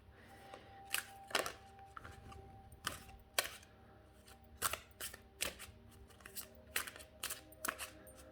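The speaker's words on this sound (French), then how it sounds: "Donc les cartes glissent bien quand même." A deck of oracle cards being shuffled by hand, giving quick, crisp riffles and slaps that repeat at an irregular pace, close and fairly quiet.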